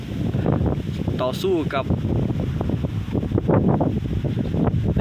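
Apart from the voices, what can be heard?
wind blowing outdoors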